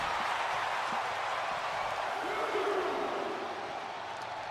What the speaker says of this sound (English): And you guys can hear the crowd chanting,